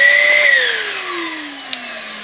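A Dyson DC08 vacuum cleaner switched off and winding down, its loud motor whine sliding steadily lower in pitch and fading over a couple of seconds, with one small click near the end.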